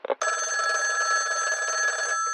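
A telephone bell rings loud and close in a single sustained ring of about two seconds, after a brief muffled sound.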